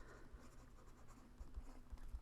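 A Sharpie Ultrafine marker writes on paper, a faint soft scratching and gliding with a few light taps as strokes begin, quiet and close.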